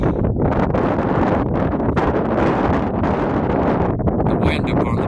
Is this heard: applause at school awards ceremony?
no